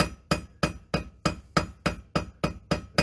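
A hammer strikes a metal wine glass holder in a smithing shop, ten evenly spaced ringing blows about three per second, close and sharp with a short metallic decay after each hit.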